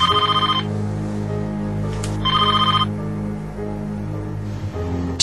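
A telephone rings in repeated electronic bursts, two trilling rings separated by pauses, fairly close and clear with no one talking.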